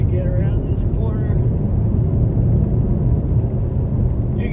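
A 2019 Ford Edge ST's turbocharged engine and exhaust drone steadily from inside the cabin, a deep continuous rumble under road noise, with a driver talking over it at moments.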